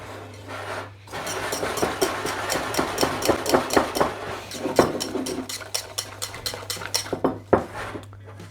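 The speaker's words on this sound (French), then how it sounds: "Je mélange." A spoon or whisk stirs chocolate cake batter of sifted flour, baking powder and unsweetened cocoa in a bowl for a cappuccino bûche de Noël, with loud, fast rhythmic clinking strokes over a steady low hum.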